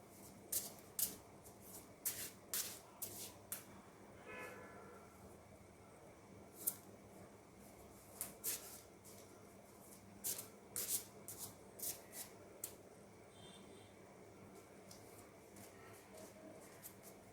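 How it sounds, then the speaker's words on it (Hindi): Tarot cards being shuffled by hand, a quiet series of quick riffling and rubbing bursts in irregular clusters, heard close and soft against a faint background hum. "So let's shuffle very quickly and see what's there in this week's card reading."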